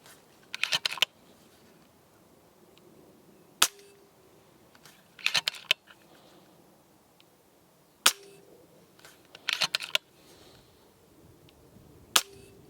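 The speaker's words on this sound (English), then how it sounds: "You can decock the rifle as well by holding it back, pulling the trigger and letting that go forwards." An FX DRS Classic 600 FAC .22 air rifle is decocked: a few sharp, isolated metallic clicks ring out close by, separated by bursts of rustling mechanical handling, with no talking.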